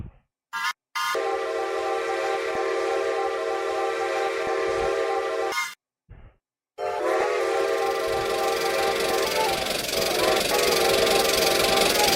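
A steam train's whistle sounds in a Roblox Strasburg Railroad game with locomotive No. 90, long sustained tonal blasts broken by brief silences, loud and near, running over most of the clip.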